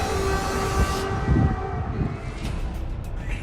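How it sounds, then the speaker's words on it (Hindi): Air raid sirens wail across Kyiv, a sustained tone over heavy city rumble, loud and continuous with no talking. "शहर में लगातार हवाई हमले के सायरन बज रहे हैं।"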